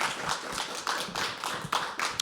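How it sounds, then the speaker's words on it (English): Audience applause at a live poetry open mic, a steady patter of many hands clapping at moderate distance, continuous and fairly even, with no voices over it. "Can we have another round of applause for her?"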